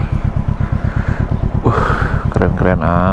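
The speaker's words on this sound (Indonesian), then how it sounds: "GS gede sekali motornya. Ini motor Yamaha." A large Yamaha GS motorcycle idles nearby at a fuel stop in France, giving a loud steady low engine pulse, then people start talking over it.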